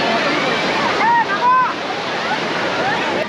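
Ocean waves wash and break on a crowded Puri beach at mid-morning, where people are bathing. The surf is a loud continuous rush, with faint voices calling in the background.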